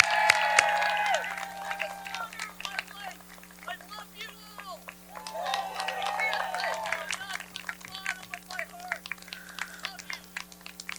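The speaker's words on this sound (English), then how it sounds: "Let's cheer her off the stage here." An audience at a college graduation ceremony cheers and applauds as a graduate leaves the stage, a busy mix of clapping and scattered whoops, with a voice talking over the crowd.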